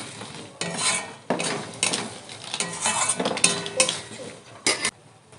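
Garlic cloves and spice paste stirred in a pan for a jackfruit and broiler chicken dish: repeated close metal scrapes and clinks of a spoon against the pan in irregular bursts, with a soft sizzle underneath.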